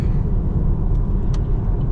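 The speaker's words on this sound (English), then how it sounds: "full straight pipe exhaust with X pipe" A Chevrolet 5th gen Camaro SS with an intake and full straight pipe exhaust with X pipe rumbles steadily in a deep, loud, continuous drone.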